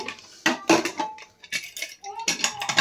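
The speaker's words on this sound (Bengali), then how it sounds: "এখন আমি কুকারের ঢাকনা খুলে দেখে নেব।" Metal clatter and clinks as the lid of a pressure cooker is opened and handled in a home kitchen after sprouting chana and moong, several sharp bursts with pauses between.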